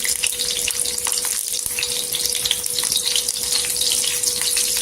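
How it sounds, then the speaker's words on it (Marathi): Green chilies frying in oil on a tawa crackle and sizzle loudly and continuously, close up, with a faint steady hum underneath and no voices. "इथे तेलामध्ये मिरची टाकून घ्यायची"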